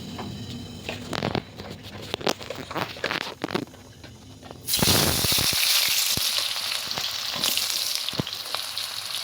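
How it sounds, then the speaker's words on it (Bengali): Sliced onion and potato hit hot oil with a bay leaf in a pan for an egg curry: a few clatters and taps lead into a sudden loud, steady sizzle that continues to the end. "পেঁয়াজ আলু টমেটো দিয়ে দিলাম। এটা কিন্তু ভেজে ভেজে নেবো বন্ধুরা।"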